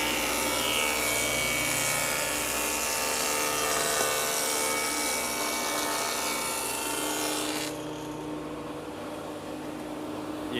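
A table saw fitted with a dado head, a stack of blades, cuts a groove in wood with a loud, sustained whine and grinding roar, then cuts off abruptly near the end, leaving a quieter motor hum.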